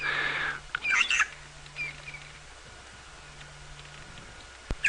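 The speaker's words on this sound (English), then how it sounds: "There's a Burchell's starling." A Burchell's starling calls a few times on an early-morning safari drive, short bright chirping notes spaced apart over a low steady hum and faint background noise.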